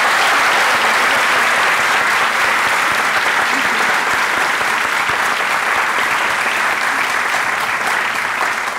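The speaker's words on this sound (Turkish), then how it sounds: "Alkışlarla!" Studio audience at a Turkish talk show bursts into loud, dense, continuous applause that holds steady throughout without letting up.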